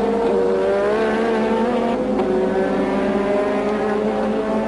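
1986 Formula 1 cars racing at the German Grand Prix, a loud sustained high-pitched engine wail with rising and shifting tones as cars pass, continuous throughout with no talk.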